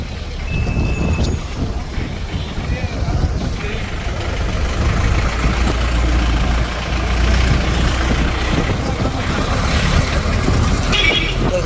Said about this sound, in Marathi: ट्रॅफिक आहे, धिंगाणा आहे, गाडी तिथं लावली आपण.